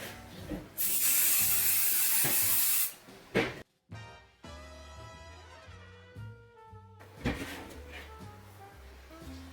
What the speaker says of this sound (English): So we want to spray some adhesive on the stabilizer.